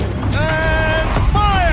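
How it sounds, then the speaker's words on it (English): Mechanical whirring and creaking of a turret rotating in Horizon Zero Dawn, with rising and falling tonal whines over a steady low rumble, sustained and fairly loud. "Rotate turret!"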